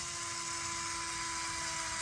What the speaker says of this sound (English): when you turn it upside down, you don't have to use your hands to grind it